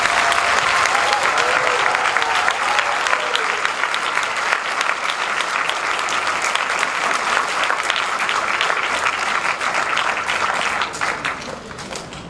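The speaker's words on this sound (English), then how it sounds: "Can we give them extra applause?" Audience applause at an elementary school combined orchestra spring concert, a loud, full, sustained ovation from a large crowd lasting over ten seconds before easing slightly at the end.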